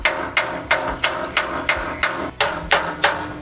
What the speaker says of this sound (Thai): ผมก็จัดการเคาะสแลกแล้วก็เคาะปรับทรงไปด้วยในเวลาเดียวกันเลย